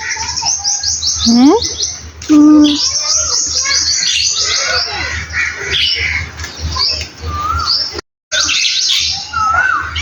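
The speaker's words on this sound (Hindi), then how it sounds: "कौवा क्या ढूंढ रहा है?" Crows squawk and other birds chirp and call loudly and repeatedly in a village, the harsh caws and tweets overlapping throughout.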